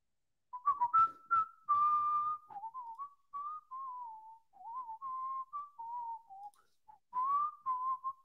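A person whistles a wandering, wavering melody in short phrases with brief pauses, clear and close with nothing else heard.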